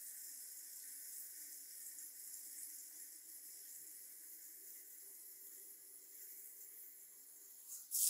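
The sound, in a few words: water from a tap filling a container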